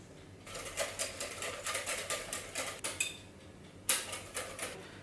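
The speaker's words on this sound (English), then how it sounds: "don't forget to stir your chocolate and butter" Melted chocolate and butter stirred in a bowl, producing a quick, regular series of light scraping clinks of a utensil against the bowl, close and moderately loud.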